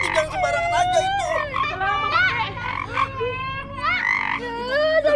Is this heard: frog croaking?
yes